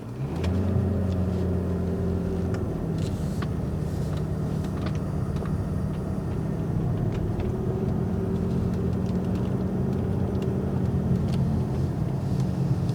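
Cabin sound of a 2003 Mercedes-Benz SL500 driving and accelerating, a steady low engine rumble and road drone with gentle rises in revs, heard from inside and continuous throughout.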